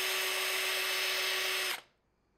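A power drill with a dull countersink bit pre-drills a screw hole in a wooden board for a barn quilt. It gives a loud, continuous high whine for nearly two seconds, then cuts off sharply into near silence.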